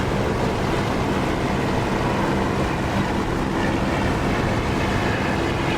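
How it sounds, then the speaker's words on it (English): An aircraft engine roars steadily from inside an open cockpit canopy in the DCS flight simulator game, a dense broadband rush with no break that stays at one loudness throughout. "I like it with the sound of this engine with the canopy open"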